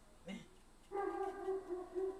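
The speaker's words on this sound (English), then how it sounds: "there goes my little homie, the little doggo that just barks." A small dog gives a short, sharp bark, then a longer whiny, howling yelp that holds on for over a second, fairly close in an indoor room.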